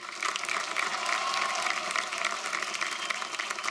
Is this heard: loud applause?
yes